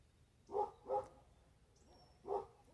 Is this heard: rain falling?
no